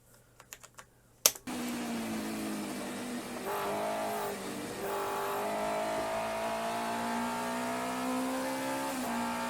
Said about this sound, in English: This doesn't rev as high as the other one, but do you notice the similarity and the similar nature of the engine note